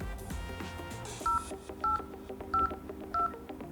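Keypad dial tones from a Motorola Razr 40 Ultra flip phone: four short beeps spaced evenly, clear and close over faint background music.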